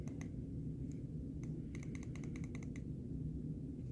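Five to six sharp plastic button clicks on a Voopoo Drag 157 box mod, pressed in a quick rapid burst after a few scattered earlier clicks, close up over a steady low background hum.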